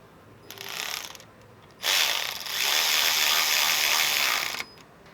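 A ratchet with a small extension tightens a stud on a Toyota Sienna with an oil leak, giving a short burst of fast clicking followed by a longer, steady run of rapid ratcheting clicks, close and loud.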